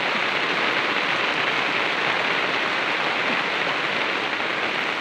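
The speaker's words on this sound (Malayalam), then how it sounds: "നല്ല മഴയുണ്ട്" Heavy rain pours steadily over a tuber garden in Kerala, a dense, even roar of water close by with no voices or breaks across the whole stretch.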